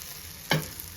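An oats dosa is flipped on a hot pan, letting out a single short, close sizzle burst that quickly fades into a faint background hiss.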